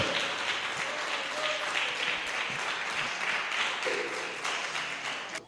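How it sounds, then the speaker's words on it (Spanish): Church congregation applauds during a Spanish-language sermon, giving a sustained, dense roll of clapping at moderate volume that holds steady for several seconds before fading out at the end. "Denle un aplauso al Señor, Él es bueno, hermanos."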